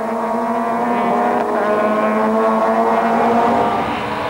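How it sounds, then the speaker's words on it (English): A 1997 touring-car race at Kyalami, where a Nissan Sentra and rival cars hold a loud, steady, high-pitched engine drone at speed throughout, with no break and no talk. "he's climbing all over Marco dos Santos, but the Nissan Sentra is very quick in a straight line"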